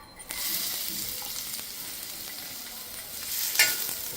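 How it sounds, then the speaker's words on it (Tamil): Chopped onion sizzles steadily in coconut oil on a tawa, a close, continuous frying crackle with light stirring scrapes. "இந்த வெங்காயத்தை போட்டு நல்லா வதக்கின்றணும்."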